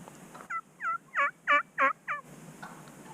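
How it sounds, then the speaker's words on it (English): A wild turkey gobbles in a run of about six loud, rattling bursts over roughly two seconds, fairly close and alone against a quiet outdoor background. "The one still wants to gobble a lot though."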